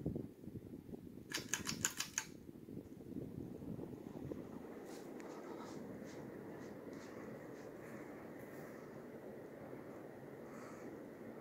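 A white and brass Hunter Original 52-inch ceiling fan runs on its high setting, giving a steady, close whooshing drone with faint mechanical ticking and a brief burst of clicking early on, with no talk.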